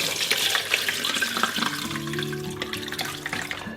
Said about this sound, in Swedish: Då ska vi bara sila ut det och hälla över i en annan behållare.